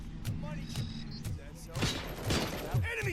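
Rapid bursts of gunfire from a weapon in RoboCop: Rogue City, fired against mercenaries, crack out in repeated volleys over a steady low game rumble, with a few loud impacts toward the end.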